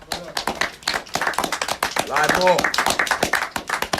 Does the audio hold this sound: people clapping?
yes